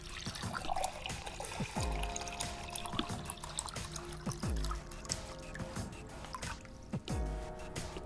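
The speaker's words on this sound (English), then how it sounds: "I need to pour more water. My cup is empty." Water poured into an empty cup, a trickling, dripping liquid flow with a few distinct splashing drips over a background of game music.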